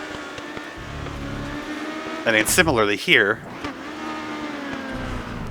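Race cars in the racing video game Grid Autosport drone steadily with engine tone throughout as they brake and slide through a corner, while someone talks over the middle of the clip.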